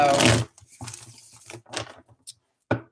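A deck of tarot cards is shuffled by hand in a quiet room: a loud riffling burst, then several softer sliding and tapping card sounds, ending with one more short flurry.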